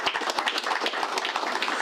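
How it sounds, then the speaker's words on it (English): Rhythmic, close clapping from an audience at a company presentation, a brisk run of sharp evenly spaced claps. "Please give me a round of applause."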